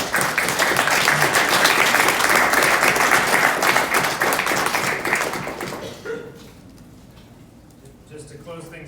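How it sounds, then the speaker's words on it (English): An audience gives loud, sustained applause to close an Industry 4.0 panel discussion. The clapping fills the room for about six seconds, then fades to quiet room noise. "If you guys would join me, please, a round of applause."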